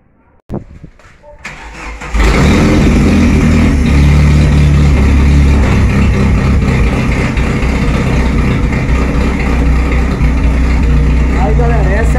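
A car engine with a 4-1 header and no air filter starts up and settles into a loud, steady idle. The idle is a close, continuous rumble that runs to the end without a break.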